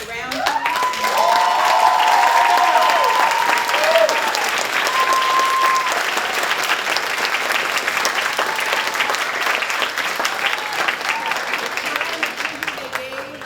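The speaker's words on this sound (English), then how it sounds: "can give our magnificent performers a round of applause?" An audience at the Voices from the Left 2019 event gives performers a long, loud round of applause that stays steady throughout, with a few whoops and voices mixed into the clapping.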